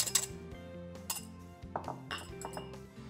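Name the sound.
whisking egg whites in a bowl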